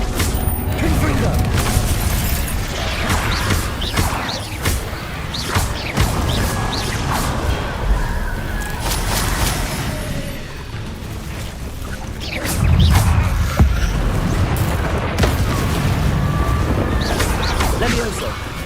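Repeated Confringo spell blasts in Hogwarts Legacy combat, heard as loud fiery bursts, whooshes and crashes in quick succession over busy battle noise, with a voice shouting spell names throughout.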